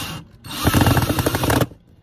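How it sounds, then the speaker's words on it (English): Power drill driving a screw into a countersunk hole, one short, loud, close burst of buzzing motor whir lasting about a second, alone with no talk. "So I'm just gonna go ahead and put this screw in and you'll see how it gets flush."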